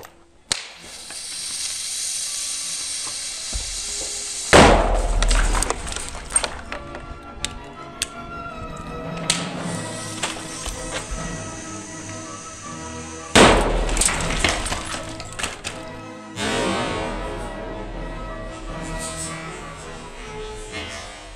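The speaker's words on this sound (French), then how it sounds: "De toutes les Taguines, la T19 est celle qui a l'explosion la plus puissante." A Taginn T19 airsoft grenade goes off in sharp, loud blasts, two strong bursts with crackling, hissing debris and scattered pops between and after them.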